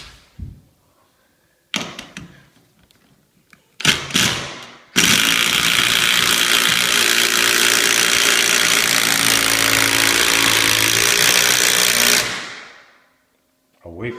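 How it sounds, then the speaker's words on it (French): Impact driver driving screws into floor joists for a parquet floor on battens, with a few short bursts, then one long loud sustained hammering whir lasting about seven seconds before winding down; a voice is heard briefly. "Là j'ai une visseuse à choc."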